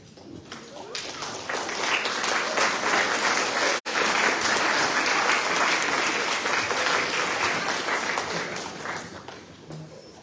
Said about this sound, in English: Let's give them a round of applause this evening.